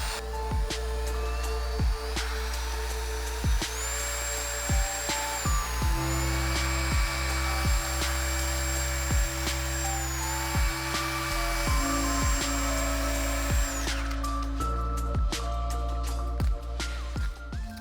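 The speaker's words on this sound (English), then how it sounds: "Squirt a little on the surface and get buffing." A drill fitted with a buffing wheel whines steadily while polishing an aluminum part with WD-40, its pitch shifting as pressure changes, loud, continuous and close, with no talking.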